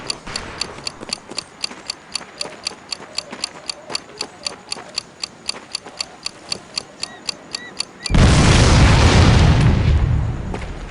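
Old beat-up cars blown up in Medal of Honor Pacific Assault: a regular ticking countdown of about two dozen sharp clicks, then a loud roaring explosion that rumbles on for a few seconds before fading.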